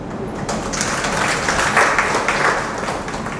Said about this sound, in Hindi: आप लोगों ने ताली बजाई